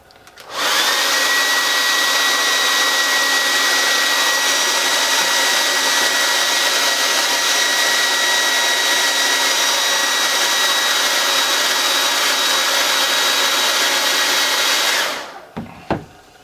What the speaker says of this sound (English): Get an old handy dandy hair dryer.